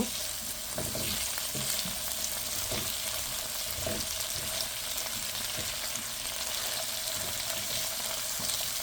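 Salted bitter gourd frying in a pan, sizzling steadily while a spatula stirs and scrapes with regular knocks against the pan.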